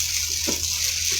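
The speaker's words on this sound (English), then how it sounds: "Moderate rain still." Moderate rain falling during a storm with a shelf cloud, a steady hiss of rainfall close around with no talking over it.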